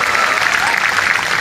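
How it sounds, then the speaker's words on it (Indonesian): A large congregation claps loudly and continuously for God at an open-air evangelistic revival service in Tanjung Haloban, Labuhan Batu, the dense applause filling the space evenly throughout. "Yang setuju berikan tepuk tangan yang meriah buat Tuhan."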